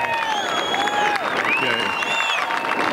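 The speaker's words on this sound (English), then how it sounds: "Let's give Sheriff Joe a big round of applause." An outdoor political rally crowd at Apple Valley applauds Sheriff Joe Arpaio, loud continuous clapping mixed with cheering voices and whoops rising and falling over a few seconds.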